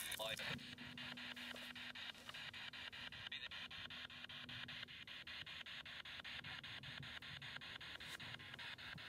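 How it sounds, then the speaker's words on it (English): Continuous hissing white-noise static from a radio scanning through channels, steady and dense for the whole stretch, with faint periodic sweeps and no voices. "this scans through white noise on the radio"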